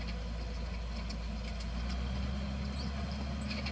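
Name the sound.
tractor engine revving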